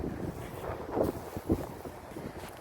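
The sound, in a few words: wind outdoors in October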